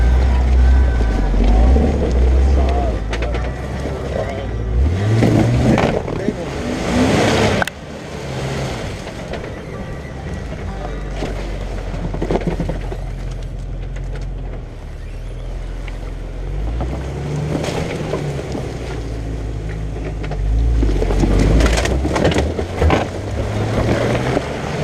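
A Jeep Rubicon TJ on 35-inch tires roars steadily as it climbs a slick, muddy Indiana ravine. The engine note is loud and continuous throughout and swells at times as the driver pushes for wheel speed.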